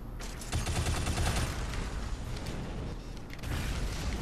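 Heavy weapon fire in the video game Shadow Complex, a dense, continuous barrage of booming shots and blasts filling the whole stretch, loud and close, with no talk over it.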